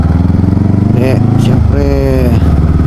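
Motorcycles pass on a road near New Clark City, their mid-pitched engine drone steady and loud, with a couple of rising harmonic sweeps as bikes go by close.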